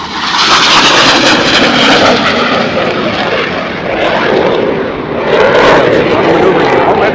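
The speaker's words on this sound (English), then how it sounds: "Watch as they perform the knife edge pass." Blue Angels jets fly a knife edge pass at an air show, making a loud, continuous roaring rush that swells and eases slightly over several seconds as the aircraft pass, while commentary runs underneath.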